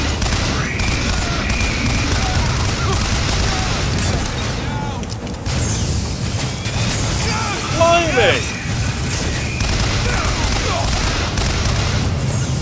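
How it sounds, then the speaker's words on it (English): Rapid crackling bursts and booms of fireworks or gunfire fill the scene in BioShock Infinite, dense and continuous throughout with a sharper flurry midway, under game ambience. "Somebody going mad with some fireworks out there."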